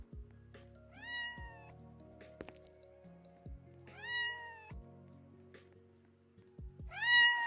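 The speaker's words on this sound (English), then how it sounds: "you're going to want to listen to the cat sound" A cat meows twice in a rising-falling call in the video game My Hero: Mirage, followed by a third meow at the end, over a low synthetic background hum with occasional soft thuds.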